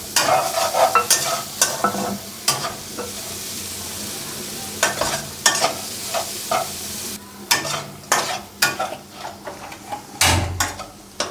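Garlic and onion fry in hot mustard oil in a pan, with a steady close sizzle and repeated sharp scrapes and clatters of a spatula stirring throughout, louder bursts near the end.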